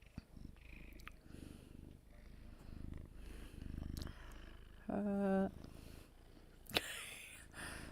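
A house cat purring close by: a faint, steady low rumble with a short louder tonal sound and a few soft handling noises, no talk.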